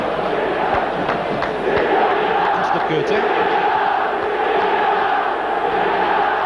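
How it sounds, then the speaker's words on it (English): A large stadium crowd at an AC Milan versus Real Madrid European Cup semi-final keeps up a continuous roar and chanting throughout, with a commentator talking over it. "I think the crowd are wanting a bit more action now."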